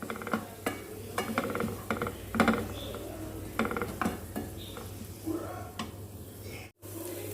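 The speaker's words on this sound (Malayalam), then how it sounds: "ഇത് നന്നായിട്ടൊന്ന് വഴറ്റിയെടുക്കാം." A beetroot pachadi mixture with salt is stirred and sautéed in a pan, giving a soft, steady sizzle broken by irregular scraping and clinking of a spoon against the pan, with no talking.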